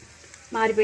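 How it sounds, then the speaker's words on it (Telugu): Mustard seeds, cumin, garlic and dry red chillies temper in hot oil for a dhal of palak and lentils, a soft hiss that bursts into loud, close sizzling crackle halfway through. "ఆవాలు, జీలకర్ర, వెల్లుల్లిపాయలు అన్నీ మంచిగా వేగిపోయాయి"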